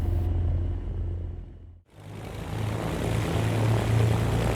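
A Baron B58 twin propeller engine in the X-Plane 12 flight simulator gives a steady, loud, close drone that dips briefly to near silence midway and then returns at full strength, with no talk.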